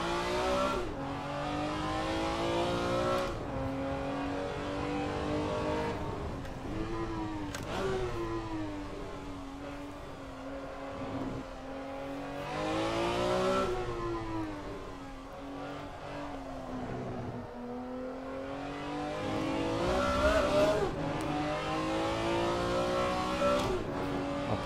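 BMW M1 Procar engine in the Assetto Corsa racing game, revving up and down repeatedly through gear changes with a few tire squeals, fairly faint and continuous.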